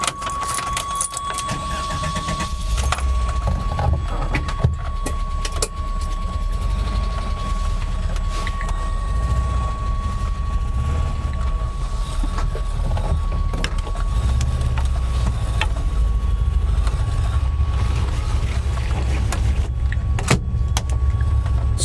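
Komorebi sonic sensor instrument turning dappled sunlight through leaves into sound plays a sustained electronic tone inside a moving 1984 Volkswagen double cab pickup truck. The tone holds steady over a continuous rumble of engine and road noise, with occasional clunks and rattles.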